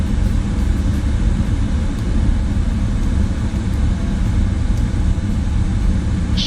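PMDG 777-200ER airliner in Microsoft Flight Simulator nudging forward while taxiing to its stand at Jeddah, a heavy, steady low engine rumble with a constant whine, loud and close, with no talk.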